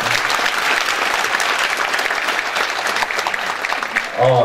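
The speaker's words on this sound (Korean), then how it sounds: "그분들을 위해서도 박수 한번 쳐주시고요." An audience in a district community hall auditorium gives a dense round of sustained applause at a lecture, the clapping fading near the end as a voice begins.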